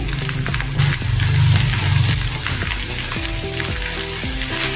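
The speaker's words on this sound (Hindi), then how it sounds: "अदरक लहसुन को अच्छे से भूनना है।" Ginger and garlic fry in a pan for a cauliflower korma, giving a loud, continuous oily sizzle that swells briefly and then settles, with faint stirring and soft background music underneath.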